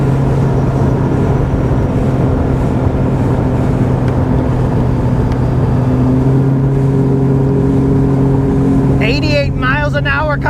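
A bass boat engine running at speed, a loud steady droning hum with a strong low tone and wind-like rush, a voice breaking in near the end.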